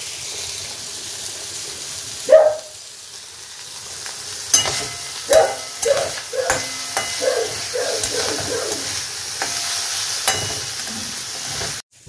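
Rice boiling hard in a pot on a home stove, a steady close bubbling and sputtering with irregular louder pops and splashes over a constant low hiss.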